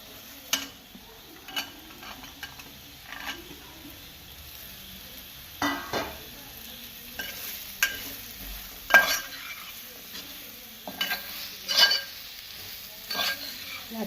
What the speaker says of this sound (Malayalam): ഇത് അച്ചാർ നമ്മൾ മാങ്ങ വാട്ടിയെടുക്കുവാണ്